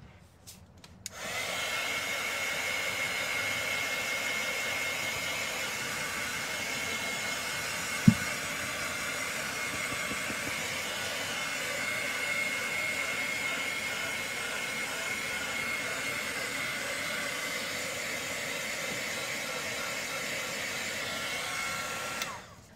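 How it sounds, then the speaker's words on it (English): A hair dryer blows steadily for about twenty seconds, drying acrylic paint on a rustic barn-wood craft piece. It is a loud, even whoosh close by with a single brief click partway through, and no one speaks. "Now let that dry for a quick second, like so, and I'm gonna put a little dry to it."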